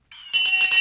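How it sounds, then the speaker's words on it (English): A bright bell rings to mark the stock market open, a soft tone first, then a loud sustained clang with ringing overtones that fills the short moment, close and alone without talk. "The bell has now gone."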